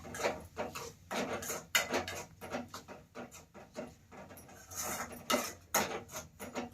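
Spoon stirring cauliflower curry with fresh tomatoes in a pan, giving a run of close scraping and clinking knocks in an uneven rhythm, with no voices.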